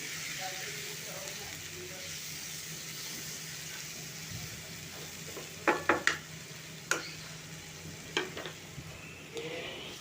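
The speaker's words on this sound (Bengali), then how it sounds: "তেলের সঙ্গে মাখি মাখি কাঁঠালগুলোকে আমি ভেজে নিচ্ছি" Jackfruit pieces fry in oil, giving a faint, steady sizzle, later joined by a handful of sharp clinks and scrapes from a utensil stirring the pan.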